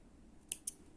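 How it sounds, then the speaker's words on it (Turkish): Scissors snip embroidery thread during needle lace work, two quick faint close clicks in a quiet room. "Sonra buradaki ipimi de kesiyorum."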